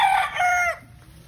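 Chickens and pullets in a small backyard coop give a loud, close crowing call with clucking tones for under a second, then it fades to quiet background murmur.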